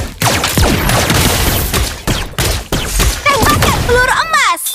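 Layla's golden bullet skill in Mobile Legends fires loud, dense bursts of rapid gunshots in continuous volleys, with voiced game lines and sweeping effect tones mixed in.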